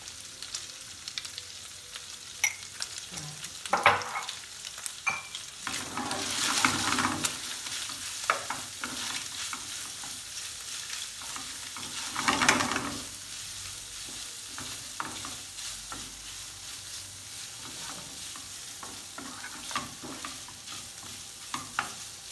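Heart and kidney frying in a pan while being stirred, a steady sizzle with scraping swells of stirring recurring through the whole span, no voices.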